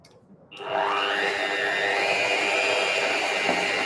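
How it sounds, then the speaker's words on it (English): A handheld electric beater whirs steadily as it mixes room-temperature cream cheese in a home kitchen, starting abruptly after a short quiet moment and holding a loud, even motor drone. "Trusty handheld beater."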